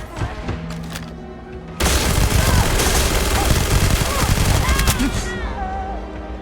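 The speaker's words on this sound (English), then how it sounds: "Oh, grenade incoming." Grenade blast and gunfire in the video game Starfield: a sudden loud explosion bursts in, followed by sustained rattling shots and heavy rumble, with a voice talking under the din.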